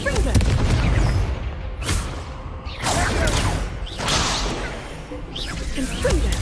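Confringo spell blasts in Hogwarts Legacy combat, a string of loud booming impacts and whooshing bursts in quick succession, mixed with shouted spell voices and busy battle noise.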